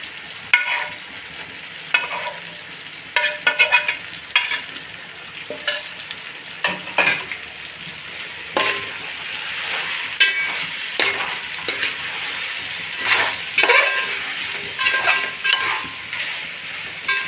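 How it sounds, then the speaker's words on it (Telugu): Fried chicken is tipped into a pot for chicken dum biryani made with Masuri rice, then stirred with a ladle, giving repeated scraping and clinking strokes over a steady sizzle, close and without talk. "దాకా ఫ్రై చేసుకున్న చికెన్ అంతా ఇందులో వేసేస్తున్నాను"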